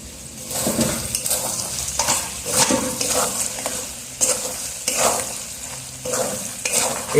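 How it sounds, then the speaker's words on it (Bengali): Chicken with turmeric and chili frying and being stirred in a pan, a steady sizzle broken by repeated scraping stir strokes roughly every second, close and fairly loud with no talking. "এগুলো কিন্তু হলুদ আর লঙ্কাটাকে হালকা আছে কিন্তু ফ্রাই করতে হবে"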